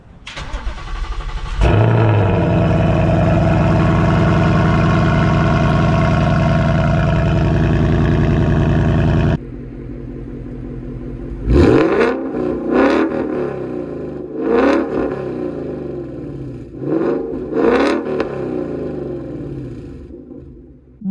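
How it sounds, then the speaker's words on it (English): A Corsa Extreme V8 exhaust sound fitted to a Ford Mustang Mach-E starts with a loud, steady droning burst. After a brief drop, several sharp revving blips rise and fall close by. "we've got the Corsa Extreme fitted into the Mustang Mach-E. I'm excited to hear what this is going to sound like"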